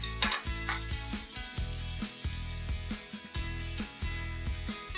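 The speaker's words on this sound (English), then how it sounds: "I'm going to saute the garlic till the raw smell goes off" Garlic paste sautéing in a teaspoon of butter in a pot, a steady close sizzle with soft stirring scrapes and clinks over the crackle, no talk.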